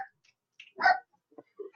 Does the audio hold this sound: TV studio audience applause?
no